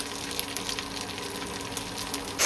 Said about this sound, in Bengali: সেটা পেঁয়াজ লঙ্কা দিয়ে ভেজে নিলাম।